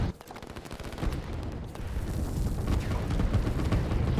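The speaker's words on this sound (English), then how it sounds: "So up here we've got these artillery coming in, destroying all of these structures." Artillery barrage pounding and destroying structures in the strategy game Line War, a steady rumbling wash of distant impacts and crackling fire with no talk.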